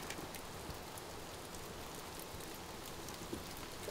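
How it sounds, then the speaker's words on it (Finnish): Steady, dense rain pours down at Lake Inari with a continuous hiss, moderately loud and unbroken throughout. "Sataa kyllä niin kovaa"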